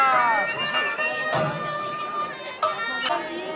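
Dense crowd of pilgrims at Jejuri temple, a steady murmur of many voices and chatter close around, with bursts of nearby activity rising through the babble.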